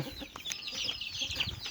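Thai native fighting chickens cluck and chatter in short bursts on a farm, fairly close and moderately loud, with no one speaking.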